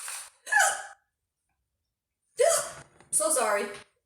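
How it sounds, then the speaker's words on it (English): A woman hiccups several times in short, sharp bursts separated by pauses, close and fairly loud, in a quiet kitchen setting. "Oh, and I have hiccups."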